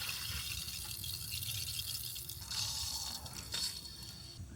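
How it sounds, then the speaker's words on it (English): Water flowing steadily through an RV water hookup as the valve is slowly opened, a soft constant hiss and trickle close by with brief louder surges toward the end. "So I'll go ahead and turn the water on. Open up the valve slowly."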